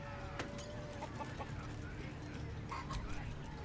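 A chicken clucks in short, scattered bursts during a chicken-chasing minigame in Baldur's Gate 3, set over steady ambient game noise with a brief high chirp near the end.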